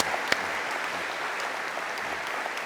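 An audience at a conversation event gives a round of applause, a dense, steady wash of clapping heard from within the hall for a few seconds, with no talk over it.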